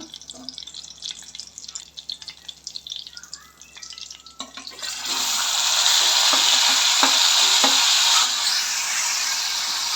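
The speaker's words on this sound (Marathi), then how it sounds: "जिरी मोरी मस्त तडकडू द्यायची मंडई मस्त फोडणी बसते आपल्या कारल्याला" Cumin and mustard seeds crackle and sizzle loudly in hot oil for a Maharashtrian stuffed bitter gourd dish, starting with softer stirring clatter and swelling into a steady, dense fry hiss that holds to the end.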